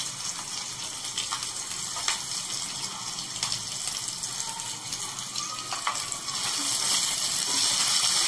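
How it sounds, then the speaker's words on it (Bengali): Chicken sizzles and fries steadily in a pan while chopped cashews and raisins are added by hand for chicken dolma. The crackle is dense and constant, with light stirring noises and no talk. "চিকেনটা ভাজা ভাজা হয়ে এসছে, এবার আমি কাজু কিশমিশ কুচিটা একটু অ্যাড করে দিচ্ছি।"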